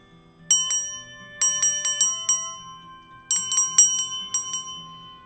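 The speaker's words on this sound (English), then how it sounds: "Using our heart chakra bell." A heart chakra bell rings in two clusters of bright metallic strikes, several quick rings each with sustained shimmering overtones, clear and close over a soft low background hum during a meditation.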